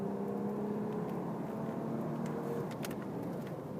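A 2004 Toyota 4Runner engine idles steadily at close range, a continuous low hum with faint mechanical clatter and no talking.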